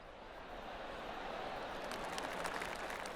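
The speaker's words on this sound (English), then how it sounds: "They're clapping." Soft, steady applause from a golf gallery in PGA Tour 2K23 on the Sovereign City Golf Links course, a continuous distant patter of clapping without any voices.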